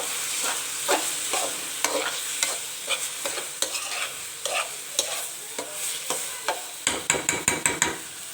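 Cabbage, potato and peas stirred and fried in oil and ghee, with a steady sizzle and repeated sharp scraping strokes of a spoon against the pan, the stirring quickening near the end.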